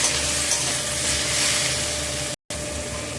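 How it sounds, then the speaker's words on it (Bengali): Ground spice paste frying in a pan as water goes in and it is stirred, a dense hissing sizzle with a watery bubbling wash, steady and close, briefly cut to silence near the end. "এবার নাড়াচাড়া করে জল দিয়ে দেবো"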